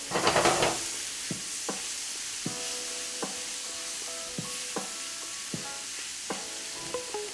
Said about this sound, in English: Making sure everything gets a chance to be at the bottom, touching that pan, getting a nice caramelization.